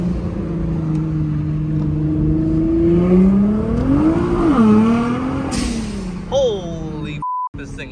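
A Nissan GT-R on the way to a rally start line revs and pulls away, its engine tone climbing and falling under voices in the cabin, with a short electronic beep near the end.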